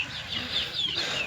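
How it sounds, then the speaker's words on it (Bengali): Chickens on a poultry farm keeping Fayoumi, Polish cap, silky and other breeds cluck softly and steadily at moderate distance, with faint rustling around them. "ওই যে ফাউমি মোরগ দেখতে পাচ্ছেন, বেশ বড় বড় হয়ে গেছে"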